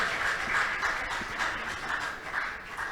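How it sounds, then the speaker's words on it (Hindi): Audience at a Shree Ram Katha religious discourse claps together, a steady, dense patter of applause heard from within the hall at moderate volume. "आप तो ताली बजाओ जोरदार"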